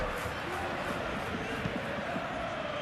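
A packed stadium crowd roars and chants before a Liverpool vs Manchester City Premier League match in the PES 21 football game, a steady, dense wall of noise throughout.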